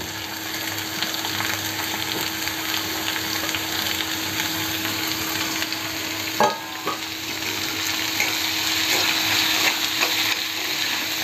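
Onion sautéing in oil in a pan gives a continuous, close sizzle, broken by a few sharp scraping and clinking stirs of a utensil against the pan, with no talking.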